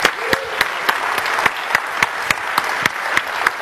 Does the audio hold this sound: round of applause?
yes